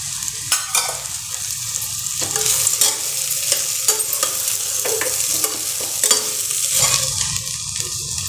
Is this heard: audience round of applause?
no